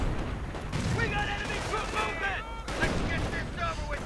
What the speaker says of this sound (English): more artillery getting called in right there on the Luftwaffe troops and the Panther once more